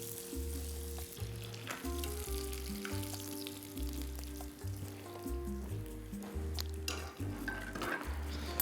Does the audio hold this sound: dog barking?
no